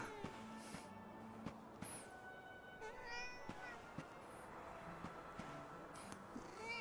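Cat meowing in the video game Dragon Quest XI S, several short meows spread across the clip over a soft game music bed, with brief tonal chimes and light footstep-like taps.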